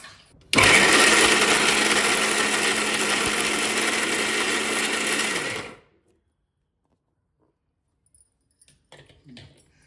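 An electric mixer grinder crushes lemon pieces for a sweet-sour pickle, a loud, close, steady whirring motor running about five seconds before switching off into near silence with faint handling sounds.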